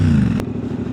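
A CFMoto 450MT motorcycle exhaust rumbles steadily at idle for under a second, close and loud, with a brief click midway.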